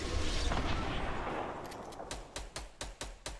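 Sniper rifle fire in a Fortnite Battle Royale match: several sharp cracks spaced about half a second apart, following a stretch of dense, rumbling gunfire and noise.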